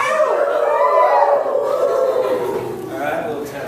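An audience at a poetry reading howls together like coyotes, many voices imitating the call. The wavering, overlapping howls are loud and close, rising and sliding down over several seconds.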